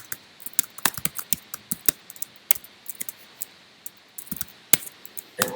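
Rapid irregular clatter of a computer keyboard being typed on, crisp keystroke clicks in short bursts with brief pauses, close and fairly loud with no talking.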